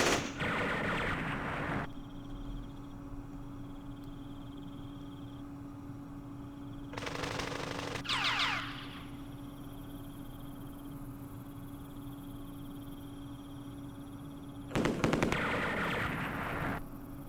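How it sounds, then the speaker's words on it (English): Anti-aircraft gunfire in the Vietnam war game Campaign Series Vietnam: three separate bursts of rapid firing, the first at the start, one in the middle and one near the end, each over a steady low hum of background noise. "there's an anti-aircraft gun that's shooting at us"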